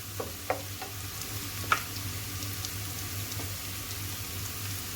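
Onion frying in a pan with spices being added for dal makhani, a soft steady sizzle with a few light clicks of a spoon near the start and middle, heard alone without talk.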